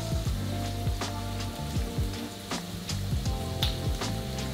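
Garlic and onions sizzle in a hot pan, a steady crackling fry with scattered sharp pops and low thumps of the pan, moderately loud and close, no speech.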